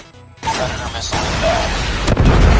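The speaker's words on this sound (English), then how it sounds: "Predator missile" A Predator missile strike in Call of Duty Mobile begins with a sudden loud boom, and rumbling blasts and crackling explosions continue after it.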